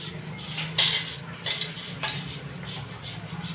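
A metal steaming sieve is rubbed with oil, giving a few sharp metallic clinks and soft scraping strokes, close and fairly quiet with no talk.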